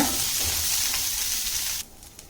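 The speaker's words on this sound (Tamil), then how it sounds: "இப்போ இந்த நெல்லிக்காய் இதில் போட்டுக்கலாம் இப்போ இதை வந்து கொஞ்சம் நல்லா வதக்கிக்கலாம்" Indian gooseberries sauté in hot oil for an Andhra-style pachadi, giving a steady, close sizzle that cuts off abruptly near the end, leaving faint quiet sounds.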